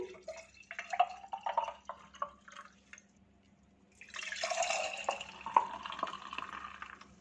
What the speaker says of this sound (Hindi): रिफ्रेशिंग से जूस को इसमें डाल लेते हैं